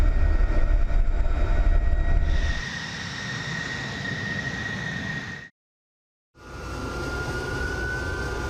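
Jet aircraft roar overhead in a sustained, loud rush that eases into a thinner whine, cuts out briefly, then returns as another pass with a steady high tone.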